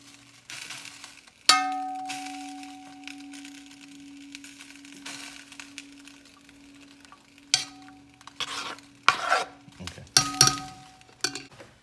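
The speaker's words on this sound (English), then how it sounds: "put it on a medium-high heat, and let that butter start to melt" Butter melts in a pot over medium-high heat with a soft, steady sizzle, broken by a sharp clink early on and several louder knocks of a utensil against the pot toward the end.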